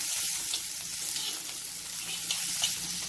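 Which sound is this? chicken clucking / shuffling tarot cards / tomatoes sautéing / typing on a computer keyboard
tomatoes sautéing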